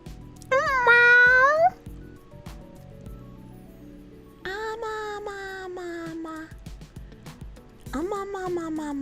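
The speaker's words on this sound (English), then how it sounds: "you'll hear my cats freaking out all the time" Cats meow loudly several times, a rising wail early on and two drawn-out meows later, with quiet room sounds between.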